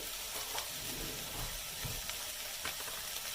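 Pastel filling fries in a pan with a steady, close sizzle and faint stirring scrapes, with no speech.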